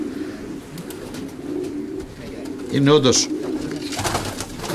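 Pigeons coo in a burst near the middle, at a pigeon show in Kozani, over steady crowd murmur, with someone talking in Greek across the whole stretch.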